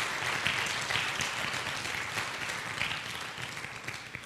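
An audience at a church sermon applauds steadily, a dense, even wash of many hands clapping from a moderate distance for several seconds.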